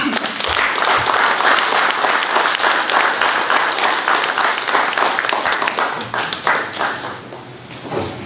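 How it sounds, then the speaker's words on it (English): A large audience at the FSM President's visit to Pohnpei State breaks into loud, sustained applause that fills the room for several seconds before gradually easing off. "May I ask that we again please give him a big round of applause."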